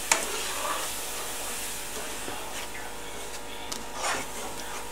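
Champurrado being whisked in a pot, a steady scraping, swishing rub with a few sharper knocks, moderately close and without talk.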